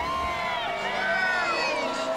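Crowd at The Hobbit world premiere in Wellington, a steady babble of many voices with cheers and whoops, close and continuous throughout.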